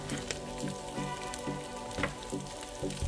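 Half a medium onion, chopped, sizzling in a pan, a soft, fairly quiet frying hiss with faint spitting pops scattered throughout.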